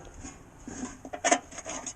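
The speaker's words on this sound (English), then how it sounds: "now you got to scrape your tools, get in these crevices" A drywall knife scrapes dried compound off other drywall tools, working into the crevices of a mud pan, in soft, close rubbing and rasping strokes with one brief, sharper scrape midway.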